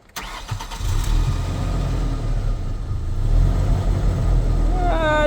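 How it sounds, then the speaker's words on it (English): A rough-running Ford Ranger pickup with about 180,000 miles cranks and fires, then settles into a loud, uneven idle with a steady low rumble, close up and without talk over it. "Let's hear this rough running truck."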